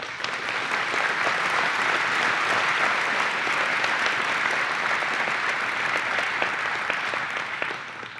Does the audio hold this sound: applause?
yes